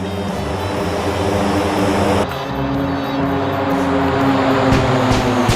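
A simulated propeller warplane in flight just after takeoff in a combat flight game, with a loud, continuous engine drone that shifts slightly partway through, with no voices.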